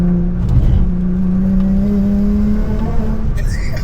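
A JDM car accelerates at partial throttle on a Tokyo street tour, with a steady, rising engine drone and whine close by that stays moderate and even throughout.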